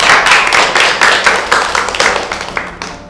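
A crowd gives applause for a girl in a Nigerian drama scene: a dense, steady burst of many hands clapping close by for about three seconds, thinning slightly toward the end.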